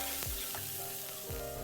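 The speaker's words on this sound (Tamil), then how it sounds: "அந்த ஆனியன்ஸ் எடுத்து போட்டு எண்ணெயில் வதக்கிக்கலாம்" Finely chopped onions frying in hot oil for a spicy chicken curry, a steady close sizzle with a few stirring scrapes, no talking.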